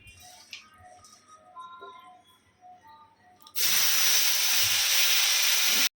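Whole spices hit hot oil in a pan while a Bengali fish curry is cooked, bursting into a loud, continuous hiss that holds steady after a quieter stretch of kitchen sounds.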